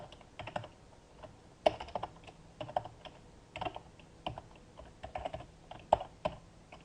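Keys clack on a computer keyboard while commands are typed into a Linux terminal, with irregular bursts of close, crisp keystrokes and short pauses, no voices.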